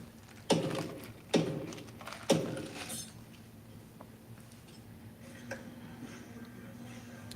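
A pry bar working a board loose: three sharp creaking, cracking snaps about a second apart, fairly close, then fainter small knocks and a low steady hum.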